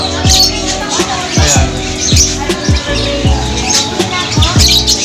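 Various birds at a resort, repeated chirps and tweets scattered through the clip, fairly close, with a voice speaking briefly over them.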